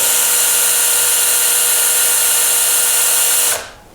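Cordless drill-driver whirring steadily at high speed for about three and a half seconds while pressing shotgun shell components during hunting cartridge reloading, then cutting off abruptly.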